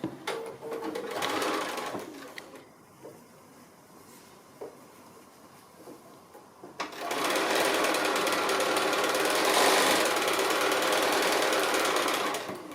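Domestic sewing machine running steady bursts as it stitches a small fabric gift bag seam at quarter-inch allowance, a loud continuous whir at the start, a quieter pause, then a longer sustained run.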